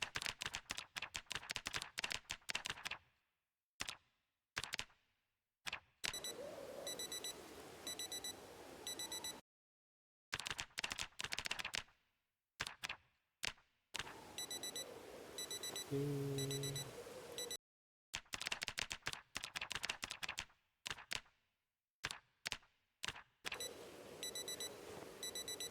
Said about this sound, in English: Okay, set alarm.